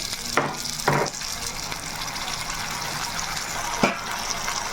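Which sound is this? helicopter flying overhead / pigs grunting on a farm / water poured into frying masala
water poured into frying masala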